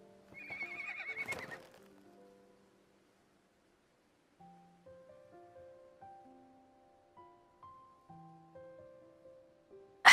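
Horse in a video game side-saddle riding scene gives a clear whinny at the start, followed by quiet musical tones after a short pause, with no speech.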